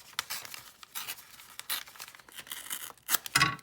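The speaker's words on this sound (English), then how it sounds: "And I have just some offcuts of some paper, and use some of that. And we'll just, I'm just gonna rip it." Paper offcuts ripped by hand, a run of sharp, crisp tearing bursts in quick succession, close and fairly loud, ending with a brighter final rip.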